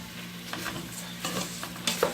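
Rice browns in a pan over medium-high heat, giving a steady soft sizzle with scraping stir strokes and a few light clinks, close and without talk.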